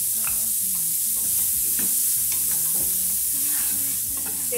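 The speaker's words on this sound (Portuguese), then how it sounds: "Alho refogado, acrescento uma cebola média picada e refogo mais um pouco." Garlic and chopped onion sauté in a pan, making a continuous sizzle with stirring scrapes and clinks, and faint background music underneath.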